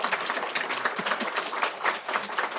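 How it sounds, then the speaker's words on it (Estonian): Conference audience applauding to welcome guests at an opening session, a steady, fairly dense patter of many hands clapping together at a moderate distance, with no talk over it. "teeme neile kohe praegu aplausi"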